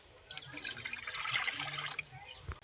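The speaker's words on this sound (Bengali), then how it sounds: "কড়া বসিয়ে দিয়েছি এর মধ্যে জল দিয়ে দেবো" Water poured into a hot wok on a stove for village-style chow mein. A steady, soft splashing pour of a couple of seconds, fairly quiet and close.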